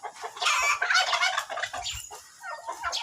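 Turkeys on a family farm gobble and cluck in rapid overlapping bursts close by, several birds calling at once with no talk over them.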